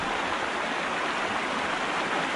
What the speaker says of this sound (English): Is that water going downwards?